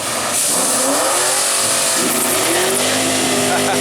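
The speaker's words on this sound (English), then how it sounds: "with a minimal burnout" A Foxbody Mustang race car at a track day does a minimal burnout: loud, continuous engine roar with rising revs and some tire noise, close to the microphone.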